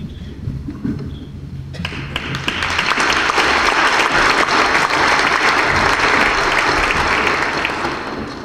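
Audience applause at a city inaugural ceremony, starting as scattered claps and swelling into full, sustained clapping from a large crowd in a hall.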